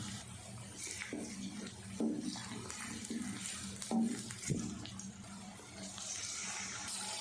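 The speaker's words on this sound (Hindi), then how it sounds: "थोड़ा सा पानी मैंने डाल दिया ताकि हम मसाले डालें तो वो जले नहीं" A little water poured into a frying pan of fried chopped onion and green chillies for moong dal egg fry. A faint, uneven splashing and bubbling runs throughout with a few louder spatters, heard alone.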